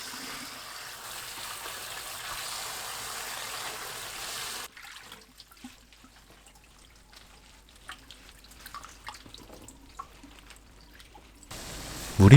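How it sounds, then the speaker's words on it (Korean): Sea mustard seaweed being rinsed in water: a steady rush of running water at first, then quiet, faint splashing and dripping, with a sudden loud splash at the very end. "맑은 물이 나올 때까지 여러 번 헹궈 씻으면 돼요."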